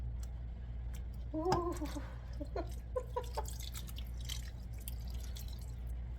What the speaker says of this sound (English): I'm just going to pour over all of it, and we'll see what happens.